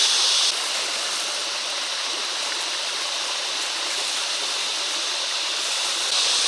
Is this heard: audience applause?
no